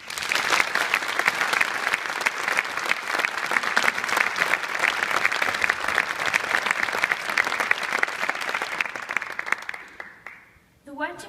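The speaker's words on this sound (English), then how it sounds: "So if you get those clapping hands ready" A large audience applauds steadily to welcome a speaker onto the stage at a Microsoft event, a dense, even wash of clapping that holds for about ten seconds before tapering off abruptly near the end.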